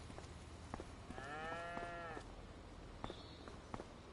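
Cows moo in Farming Simulator 25, one clear, drawn-out low moo in the middle over quiet farm ambience, with soft footsteps and a few small clicks around it.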